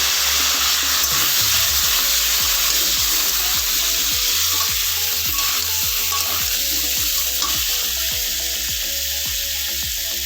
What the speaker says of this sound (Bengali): এই তেলেতেই আলুগুলো দিয়ে ভেজে নেব।